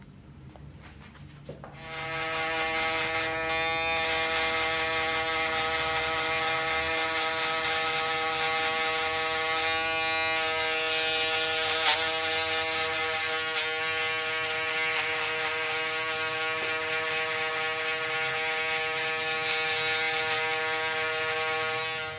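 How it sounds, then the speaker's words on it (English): An electric shaver at a barbershop runs steadily at close range for about twenty seconds after switching on, giving a loud, constant buzzing drone with a slight shift in pitch as it moves over the hair. "Before shaving or using the shaver"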